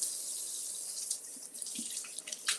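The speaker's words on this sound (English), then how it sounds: "let me wash my hands" Tap water runs steadily into a kitchen sink during handwashing before cooking, a continuous bright hiss with small splashes and spatters, fairly close and with no talking.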